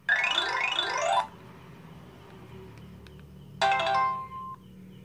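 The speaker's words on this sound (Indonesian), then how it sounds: "Dan di sini banyak ringtone bawaannya ya." A built-in ringtone plays loudly from a cheap budget phone's small speaker, with a rising sweep of chiming notes and then a second short burst of bright tones.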